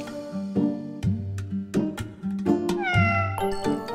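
A cat meows repeatedly while being offered food, giving several close, clear, drawn-out meows in quick succession with no one talking.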